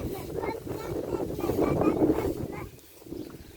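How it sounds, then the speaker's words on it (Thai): Cold winter storm wind gusts during a December freeze with the power out, a steady, loud roar buffeting the microphone and briefly easing near the end, with voices talking underneath. "สียงลม ลมทำไมมันหนาวแบบนี้"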